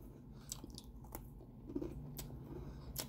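Someone chews a bite of food close up, with faint, soft crunching and squishing sounds and a few sharper clicks in an otherwise quiet moment.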